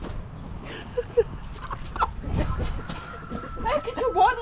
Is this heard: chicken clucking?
yes